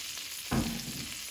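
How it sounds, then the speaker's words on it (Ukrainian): Syrnyky, cottage cheese pancakes, frying in a pan, with a steady soft sizzle and a brief louder burst of spattering partway through, heard close and alone. "Ну, а поки сирники смажаться,"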